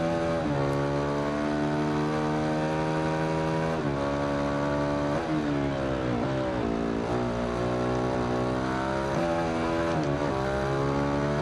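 A 2015 Ducati Hypermotard 821 SP engine drones continuously in the racing game Ride 2, its pitch climbing and dropping through repeated gear shifts with sustained revving and no pauses.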